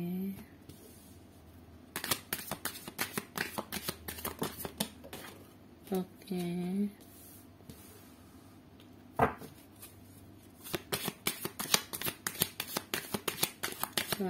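Tarot cards are shuffled and drawn by hand in bursts of crisp riffling and sharp flicks, close and fairly loud, with a few pauses and short bits of talk between.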